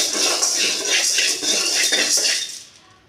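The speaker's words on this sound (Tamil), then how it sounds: "இப்போ கடலப்பருப்பு வந்து வறுத்துட்ருக்கோம்" Dry chana dal is roasted in a pan for idli podi, the hard lentils rattling and scraping against the metal in quick repeated bursts as they are stirred, fading out near the end.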